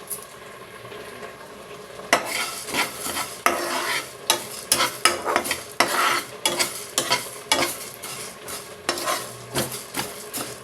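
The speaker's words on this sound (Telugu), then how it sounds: "1 స్పూన్ జీలకర్ర, 6 స్పూన్ మెంతులు, 1 స్పూన్ ఆవాలు వేసి దోరగా వేయించుకుందాం" Cumin, fenugreek and mustard seeds roast in a pan for chicken pickle, with a spoon repeatedly scraping and stirring against the metal over a light sizzle, in close, rhythmic strokes.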